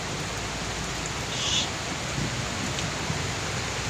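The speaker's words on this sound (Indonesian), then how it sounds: "Hujan deras banget nah" Heavy, persistent rain falling outdoors during a flood-prone storm, a dense steady hiss with no breaks and no voices.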